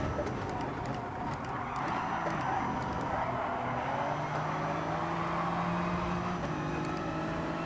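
Race car engine lapping the Dragon Trail circuit in Gran Turismo Sport, a steady droning hum with shifting pitch as the car accelerates and slides through corners, continuous and fairly loud throughout.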